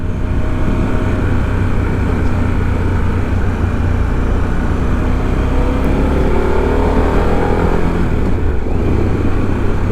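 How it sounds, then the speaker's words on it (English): A Harley-Davidson Pan America Special motorcycle accelerating out of a bend, a loud continuous engine drone from the rider's position with rising pitch and heavy wind rush throughout. "I'm just going to give it a little gas out of that bend."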